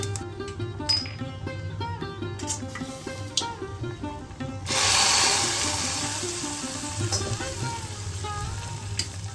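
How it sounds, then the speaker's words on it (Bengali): Mustard seeds and two dried red chillies hit hot mustard oil for a tempering, giving a loud burst of sizzle and crackle midway over steady frying, with background music running throughout. "তাতে সর্ষে ফোড়ন দিয়ে দিলাম আর দুটো শুকনো লঙ্কা দিয়ে দিচ্ছি"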